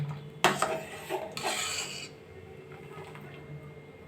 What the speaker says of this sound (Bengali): গ্যাসের ফ্লেমটা কমিয়ে মাঝে মাঝে একটু এটা নাড়াচাড়া দেবো